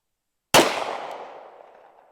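A single MPA double-stack 9mm pistol shot fired outdoors in wind toward a 300-yard target: one sharp, loud crack out of silence, followed by a long fading tail.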